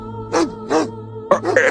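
A dog barking: three short, separate barks spaced across under two seconds, fairly close, over a low steady hum.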